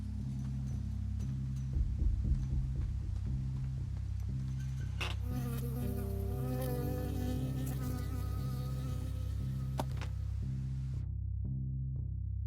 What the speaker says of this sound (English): I got stung by a bee.